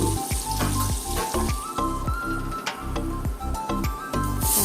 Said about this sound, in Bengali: বাটারটা একটু গরম হয়ে গেলে এর মধ্যে আমি রসুন কুচি দিয়ে দেবো